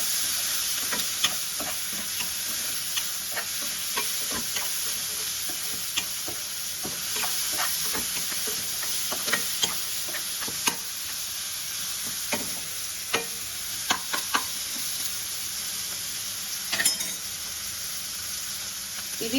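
Minced mutton kheema sizzles steadily in a pan, a constant frying hiss broken by scattered scrapes and clacks as a spoon stirs it, close by and with no talking.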